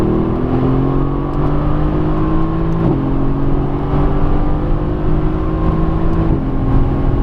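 A 2017 Mercedes-AMG GT S engine pulls hard under full throttle on a race track. The loud, steady drone climbs in pitch with two clear upshifts, and there is no talk.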